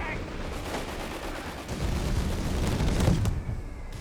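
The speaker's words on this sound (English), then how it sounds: "commanders under brutal fire from both an MD-42 and our mortar team here" Sustained MG-42 machine gun fire and mortar blasts in Company of Heroes 3, a dense rumbling barrage that swells toward the end, with a commentator's voice faintly over it.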